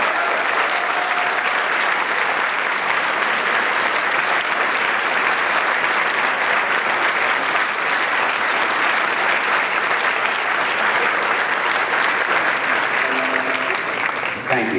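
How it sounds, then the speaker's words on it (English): An audience at an education opening-day event gives a sustained round of applause, dense steady clapping at full volume for about fifteen seconds with no pauses. "Would you please give yourself a round of applause?"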